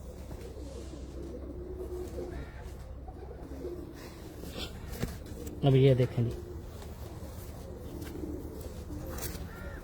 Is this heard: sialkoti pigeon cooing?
yes